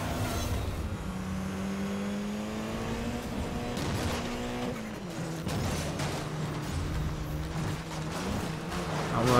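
Race cars in Need for Speed Most Wanted 2012 accelerate off the line, engines rising and falling in pitch through gear changes, loud and close, with other cars roaring past.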